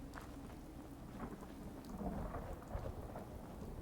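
A thunderstorm with rain in the video game Fallout 4, steady rainfall patter with low thunder rumbling through, faint and distant, no voices.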